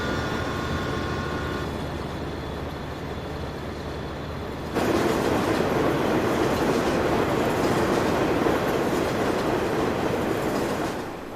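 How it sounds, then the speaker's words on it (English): In Farming Simulator 19, a loud train passes close by with rumbling wheels and rhythmic clickety-clack, jumping sharply in volume partway through and staying heavy until it fades slightly at the end; a faint tone is heard early on. "God, that train is loud"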